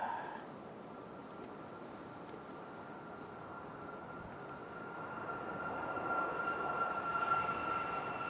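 A Ryanair airliner rolls down the runway for takeoff, a steady broadband roar with a faint engine whine that grows slightly louder toward the end, heard from a distance with no talk.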